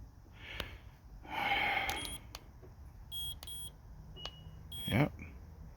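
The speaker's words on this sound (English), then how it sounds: "It beeps confirming that everything is good." A 2015 Honda CR-V gives short confirmation beeps, several thin high chirps scattered across the stretch, faint against a quiet background with a brief breathy rustle and vocal noise nearby.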